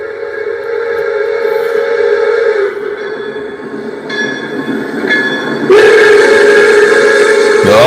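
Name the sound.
train whistle in the distance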